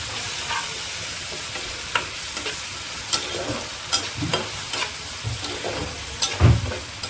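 Spice masala with chilli powder and a splash of water is stir-fried in a pan for a fish and potato dish, making a constant sizzle broken by repeated scraping strokes and soft knocks of the spatula.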